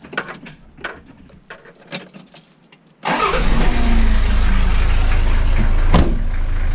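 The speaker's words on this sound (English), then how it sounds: "gonna take this Land Cruiser for a ride. I'm going to start it first." A 1991 Toyota Land Cruiser PZJ70 diesel is started with the key: a few quiet clicks and key rattles, then the starter catches and the engine bursts into a loud, steady close-up rumble.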